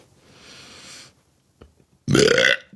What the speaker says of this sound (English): Big burp record.